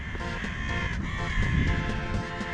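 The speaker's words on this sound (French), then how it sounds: "avec les corbeaux, ça donne un air tellement sinistre" Several crows caw in a street in Budapest, their harsh calls repeating in an irregular series over a steady background hum of the city.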